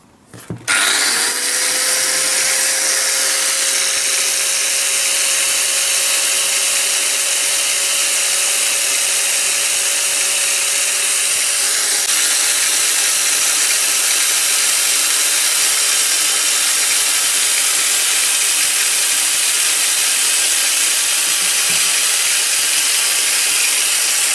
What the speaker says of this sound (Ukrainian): Кутова шліфмашина болгарка Старк. Це копія, практично повна макіти.